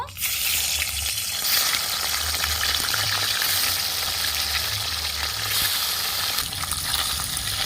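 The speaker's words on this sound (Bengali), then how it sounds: "কড়াইয়ের তেল গরম হয়ে গেছে এবার আমি মাছগুলো ভেজে নেব" Pieces of katla fish fry in hot oil in a wok for a Bengali dahi katla, giving a loud, steady, dense sizzle that runs unbroken from start to finish with no talking.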